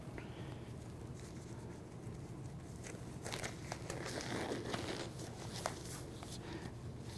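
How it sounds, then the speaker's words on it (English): Snug gloves being pulled on at a phlebotomy practice station, giving faint, close rustling and soft crinkling that grows busier midway through, over a low steady room hum. "Now I'm going to don my gloves"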